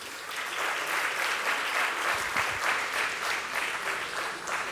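Steady applause from an audience at a literary festival panel on secular nationalism, a dense continuous wash of clapping filling the room for several seconds without letting up.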